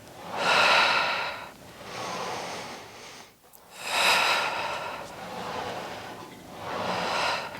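Slow, audible breaths during a Pilates reformer exercise, alternating long exhales and inhales in a steady rhythm of about four cycles, close and clear with no talking.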